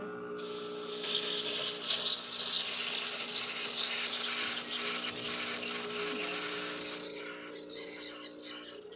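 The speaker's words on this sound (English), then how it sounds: "We got the hot water." A Rancilio Silvia espresso machine dispenses hot water: a close, steady pump whine and hum under a rushing hiss that softens and sputters near the end.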